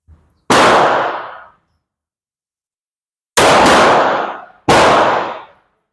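Three loud, close gunshots from Thaiarms 9mm 115-grain test rounds at a range, one sharp report then a pause before two more in quick succession, each with a ringing decay.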